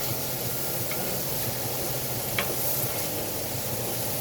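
Mushrooms frying in oil in a hot pan give a steady, close, even sizzle and hiss, with a couple of faint clicks and no talking.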